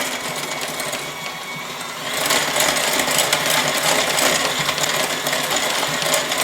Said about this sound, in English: I'm going to grab my hand mixer, and I just want to start mixing all of this together.